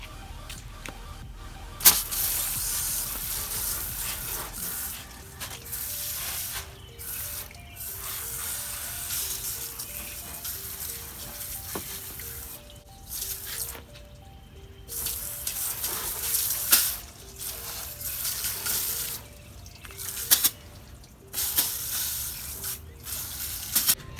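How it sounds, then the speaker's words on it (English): A garden hose on a shower setting sprays water across a BMW engine bay, a steady hissing wash that runs for the whole stretch, briefly interrupted by short pauses and shifts as the spray moves over the engine. "now let's wash it off. We're going to take the shower option."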